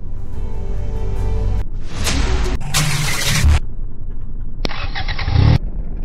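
Game car engine from the Hill Taxi Driving mobile game cranking and starting, with several loud bursts of revving and engine noise separated by short gaps, heard on its own.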